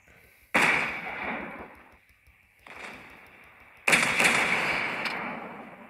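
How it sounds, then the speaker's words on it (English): Battleship guns fire in World of Warships, two heavy booming salvos with a smaller blast between them, each blast decaying into a long rumbling tail. "he's now firing on me"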